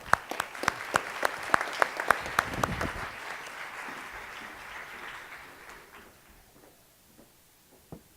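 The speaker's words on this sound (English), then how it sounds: "Guys, give them a round of applause." An audience gives a round of applause, sharp separate claps at first building into a brief burst that fades out quickly, leaving faint room noise and a last stray clap.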